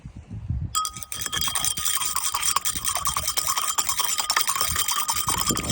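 A small centrifuge spins a wet slurry of river sand and water for gold recovery, starting with a clunk and then rattling and whirring continuously with a gritty, buzzing metallic chatter, fairly loud and close, no voices.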